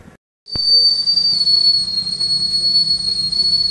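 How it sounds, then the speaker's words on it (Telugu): A pressure cooker steaming chana dal kudumulu lets out one loud, sustained, high whistle that starts abruptly after a brief silence and holds steady to the end. "హై ఫ్లేమ్లో పెట్టుకుని ఒక విజిల్ రానివ్వండి."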